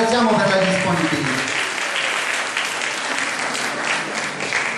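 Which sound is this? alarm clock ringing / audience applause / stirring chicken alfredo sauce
audience applause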